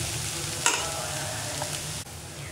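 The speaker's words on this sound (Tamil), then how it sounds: "கொஞ்சம் எண்ணெயும் ஊற்றி இதை வந்து கலக்கி கலக்கி ஒரு 5 நிமிஷம் வந்து ட்ரையாக பண்ணிக்கலாம்." Beans and steamed lentils for paruppu usili are stir-fried in oil, a continuous close sizzle with one clear scrape of the spoon partway through and nothing spoken.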